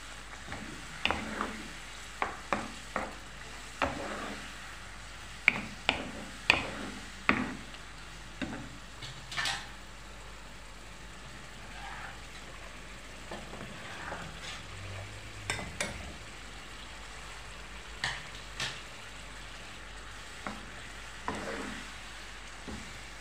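Chicken frying in a covered pan with spices and tomato paste, giving a low steady sizzle broken by scattered sharp clinks and scrapes of stirring, with no voices.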